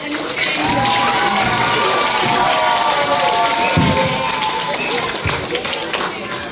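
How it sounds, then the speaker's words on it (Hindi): A big crowd at an Independence Day event claps and cheers continuously, with shouts and children's voices mixed into the steady roar of applause. "एक बार फिर जोरदार तालियां"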